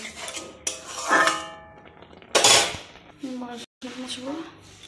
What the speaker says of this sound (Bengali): বাসন পড়েছে।